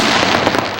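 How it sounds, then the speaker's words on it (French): A rapid burst of firecrackers exploding during holiday festivities in Ivory Coast, loud and crackling with dense overlapping pops, no talk. "quand les gens sont à la maison et puis ils entendent les bruits des pétards"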